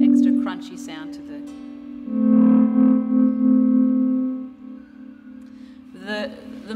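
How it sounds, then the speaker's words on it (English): An electric guitar runs through distortion and delay pedals, sustaining a thick, buzzing chord that swells, rings on with echoing repeats and fades, framed by brief picked notes at the start and end. "I use the distortion and the delay together"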